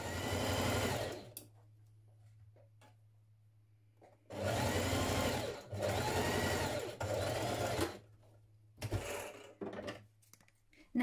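A sewing machine stitches the pocket seams of a sheath dress, running nearby in several bursts of whirring, rapid needle clatter. The longest bursts last one to two seconds, separated by pauses with a low steady hum underneath.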